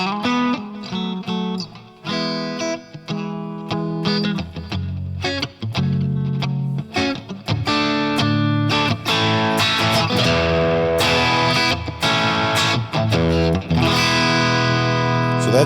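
Electric guitar with distortion played through Fuego X amp software with cab simulation, reverb and delay, strummed chords and riffs ringing loud and continuous with no voice over it.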